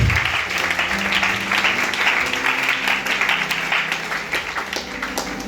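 A church congregation at a worship service applauds Jesus Christ with sustained, dense clapping that fills the room, steady and loud throughout, with faint voices mixed underneath.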